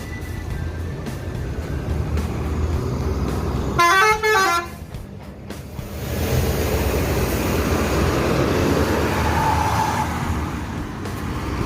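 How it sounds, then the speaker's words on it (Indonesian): A loud, warbling bus horn honks once over steady engine rumble and traffic noise, then the bus pulls away from a bus terminal in Solo with a rising roar. "Ini bus yang keempat keluar terminal Balai Solo"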